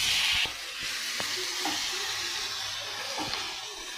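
Cashews, green chilies, mint and coriander sautéing with garam masala for paneer kaju masala sizzle steadily in a pan, with a few light scraping stirs and knocks throughout; no talking.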